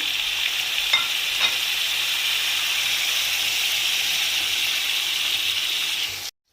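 Steady, loud sizzling and hissing of peppers and tomatoes frying in a hot pan for menemen, with a few light clicks of stirring, then a sudden stop.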